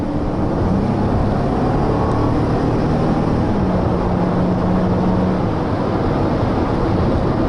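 Steady broadband road noise inside a moving 2014 Honda Odyssey EX-L minivan, a continuous low rumble with a faint drivetrain hum that shifts slightly in pitch, loud and constant with no talking.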